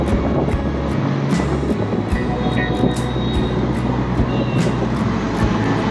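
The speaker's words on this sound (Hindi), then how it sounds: "ये जो ट्रक जा रहा है इसकी आवाज ऐसी थी जैसे स्पोर्ट्स बाइक जा रही है" A truck passes close by on the road with a loud, steady roaring engine, a high-revving, buzzing tone much like a sports bike, and heavy low rumble throughout with no talking.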